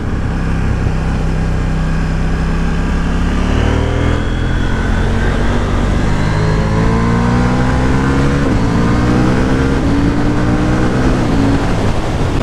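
A 2023 KTM 790 Duke motorcycle in sport mode revs hard and climbs through rising pitch sweeps with quick-shifter gear changes, a continuous roaring acceleration with no talking.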